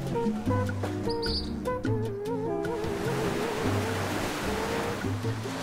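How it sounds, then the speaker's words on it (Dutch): Meters-high Caribbean Sea waves crash and break on rocks, a continuous loud roaring surf wash that builds and stays full, with some tonal background music and chirpy sounds in the first half. "meters hoge golven uit de Caraïbische Zee komen hier binnen en slaan kapot op de rotsen"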